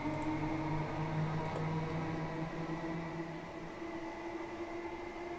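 A Class 317 four-coach electric train runs along a West Anglia line near Harlow Town in Train Simulator Classic, giving a steady close hum of traction motors with tonal whine and rumble throughout, no talk.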